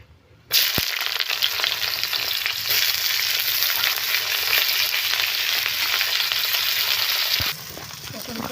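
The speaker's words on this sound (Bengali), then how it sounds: "পটল কটা দিয়ে আমি লাল লাল করে পটল কটা ভেজে নেব" Pointed gourd pieces dropped into hot oil and frying, a sudden loud burst of sizzle that holds steady and close for several seconds before easing off, no voices.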